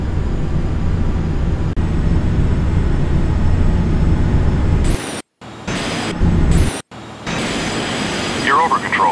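Steady loud roar of a large airliner's engines on final approach in Flight Simulator X, cut off abruptly twice in the second half before resuming, with a voice speaking over it.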